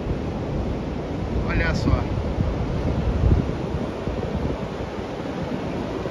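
Steady roar of surf and gusting wind on Santos beach on a cold day, a dense broadband wash with wind buffeting the microphone and a brief voice speaking over it.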